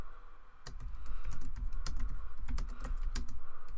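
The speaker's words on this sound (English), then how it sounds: "I'm just quickly typing to the chat on Discord" Rapid, uneven clicking of typing on a laptop keyboard, keys struck in quick bursts with short pauses, close and fairly loud, no talking.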